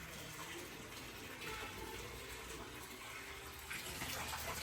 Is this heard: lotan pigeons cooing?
no